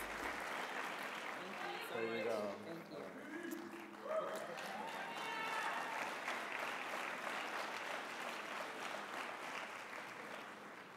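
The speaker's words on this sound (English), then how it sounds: "I think we do a little bit better with the applause" Applause from an audience at a journalism awards event, a moderate, continuous patter of clapping throughout. Voices and a short spoken phrase sit among it, with the crowd sounding somewhat distant.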